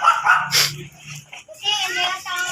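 A Shih Tzu dog barks and yips close by, mixed with people talking over it in short bursts.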